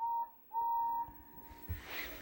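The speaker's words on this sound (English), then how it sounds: "Henry blew his whistle" A thin, high toy steam train whistle sounds twice, a short toot then a longer one, followed by soft puffing and a faint hiss.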